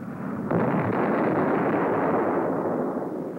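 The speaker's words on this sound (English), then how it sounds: "cameras are run at high speed to record spectacular events like this napalm attack on a simulated Cuban Missile Guidance Control van." A napalm strike hits a simulated missile guidance control van used as a test target, a sudden loud roaring burst that swells at the start and rumbles on steadily, dense and close with no voices.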